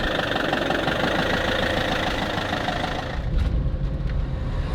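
A camper van engine idles steadily and close, a continuous mid-low rumble that deepens slightly near the end as the vehicle sets off, with no talk.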